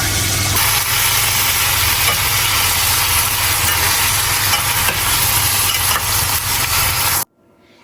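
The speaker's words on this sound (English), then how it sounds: "Now that I've added all the vegetables, I have to stir occasionally and cook them for about 20 to 25 minutes." Vegetables cooking for homemade tomato soup are stirred in a pot, giving a loud continuous sizzle and hiss with a low rumbling hum that cuts off abruptly near the end.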